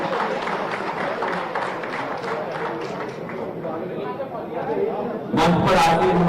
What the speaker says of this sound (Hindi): आदरणीय ज्योतिरादित्य सिंधिया जी के लिए जोरदार तालियां उनका स्वागत करें